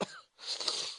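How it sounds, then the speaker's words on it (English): A short cough followed by a rough, breathy throat-clearing burst, close and fairly quiet, with no talking. "I picked up some cough from somewhere"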